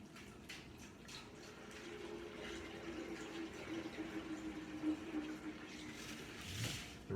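Rust remover liquid pours out of a vintage Honda fuel tank in a quiet, steady gurgling stream that rises slightly and trickles off near the end, faint and close, with no talk.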